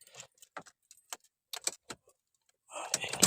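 Car keys jangle in short bursts as someone fumbles one-handed to unlock a car door, followed by a louder clatter at the end, close by.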